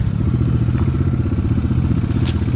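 A motorcycle without a hand clutch rides a forest trail, its engine a loud, close, continuous throb with light clattering from the bike over the rough ground.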